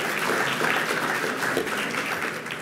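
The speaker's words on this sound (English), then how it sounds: "Give yourselves a round of applause just for being here." An audience at a conversation event with the Assembly Speaker gives a steady round of applause, a dense wash of many hands clapping that continues evenly throughout and fades slightly at the end.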